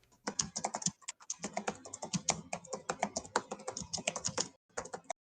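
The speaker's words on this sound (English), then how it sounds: "I can hear you like typing away." Rapid clattering of a computer keyboard, with fast irregular bursts of keystrokes that stop briefly near the end, close and clear with no talking.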